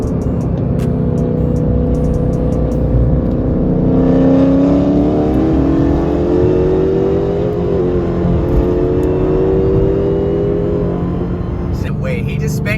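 A Dodge Scat Pack revs at a car cruise, a loud, close, sustained engine roar that rises and falls in pitch for about twelve seconds, with people talking and exclaiming over it.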